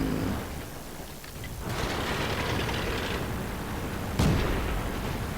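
A single tank cannon shot fires in World of Tanks from an M3 Lee, a sharp broadband report that rings out against steady low battle rumble and wind.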